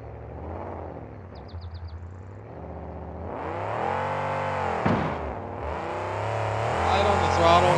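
A monster truck engine revving hard on a jump run at a stadium event in East Rutherford, rising from a low rumble to a loud sustained roar with swelling throttle, under an announcer's commentary.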